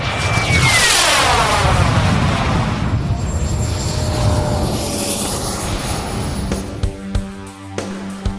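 An RC model jet aircraft races down the runway with a loud turbine whine that sweeps past with a clear pitch drop and then fades into the distance.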